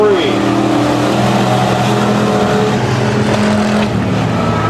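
Pure stock race cars roaring around a speedway track during an evening heat, a steady loud engine drone with passing cars, under continuous announcer commentary.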